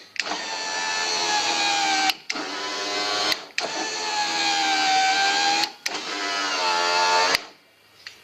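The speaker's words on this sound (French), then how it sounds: "là c'est le moteur vitre électrique" A car's electric window motor whines up and down in four long strained runs, each ending in a sharp clunk at the stop, loud and close with no talk.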